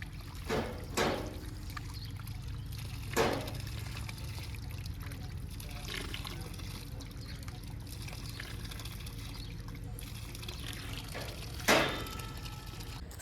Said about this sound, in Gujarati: એ ડ્રીપની પાઇપ પડી છે અને આંબામાં પાણી જાય છે એટલું ખોલી લીધું છે